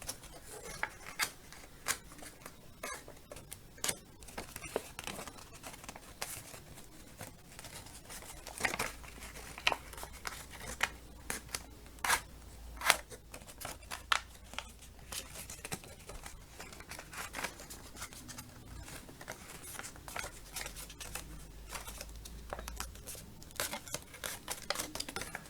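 Paper is folded and creased by hand to make a paper boomerang. Soft crinkles and short sharp rustles come close-up and on and off, with scattered creasing taps throughout and no voices.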